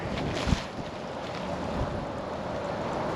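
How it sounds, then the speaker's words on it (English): Wind gusts outdoors beside a camper awning, a steady rushing roar with a sharp buffet near the start and faint flapping, loud against the microphone. "It's a pretty good gust of wind coming along"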